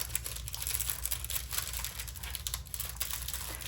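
Paper crinkling inside a handmade in-the-hoop pumpkin-shaped fabric dog toy, such as leftover cereal box bag liner, giving a steady close crackling rustle through the whole stretch with no voices.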